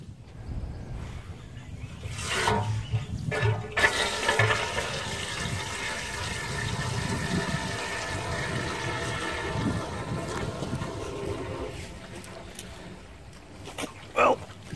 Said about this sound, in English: Right, hose pipe's going in.